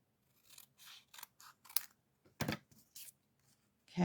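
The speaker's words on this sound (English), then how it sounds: "So I'm just going to cut that right in half." Scissors snipping through paper, a run of soft crisp cuts in an uneven rhythm, close and quiet, ending with one louder slicing snip.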